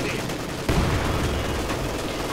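Dense, continuous battlefield gunfire with heavy mortar fire in Company of Heroes 2, loud and rumbling with a sharp burst partway through, under a faint voice.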